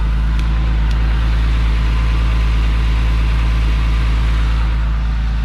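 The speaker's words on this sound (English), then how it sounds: "So we started back up and it does have oil pressure, so that's good." A Porsche Carrera 911 (997) engine idles steadily after being restarted, a loud, even low rumble with a regular pulsing beat, running alone without pause and with no talk.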